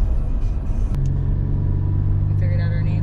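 A car pulls away on the road out of Flagstaff, its engine rumbling low and steady from inside the cabin while people talk.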